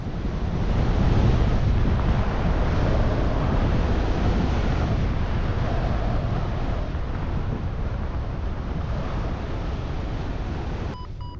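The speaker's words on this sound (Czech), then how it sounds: "Vítr tady fouká ze západu a svah je jim dokonale omývám." Strong, constant wind roar rushing past while paragliding above Lijak in Slovenia, a loud unbroken buffeting that fills the whole stretch, with no voices.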